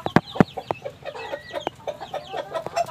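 Native chickens and their chicks cluck close by, with sharp clucks and thin, high peeps repeating in a busy, irregular barnyard chatter.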